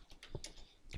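Fast keystrokes on a computer keyboard, entering web page code: a quick run of crisp, close clicks with short pauses, no voices.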